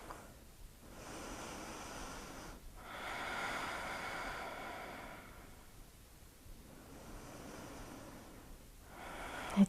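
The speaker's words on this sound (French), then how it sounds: "On reste encore sur 2 belles respirations dans cette posture du demi-pont en statique." Slow, deep breathing while holding a half-bridge yoga pose, with long soft inhales and exhales repeating gently at close range over quiet background hiss.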